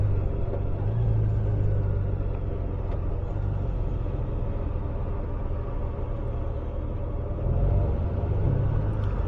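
Steady, close engine rumble of a motorcycle cruising along the road, a continuous low drone with slight swells in level and no speech over it.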